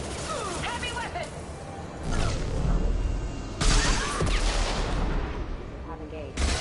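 Heavy weapon fire in Mass Effect 2 combat on Insanity difficulty: several loud booming blasts and explosive crashes, with bursts of gunfire and mechanical clatter between them, while squad voices shout over the fighting.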